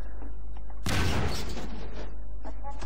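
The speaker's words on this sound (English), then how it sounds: "Still firing TNT down at me." A TNT explosion in the Half-Life 2 video game, set in City 17: a sudden loud blast that dies away into a crackling rumble with scattered smaller impacts.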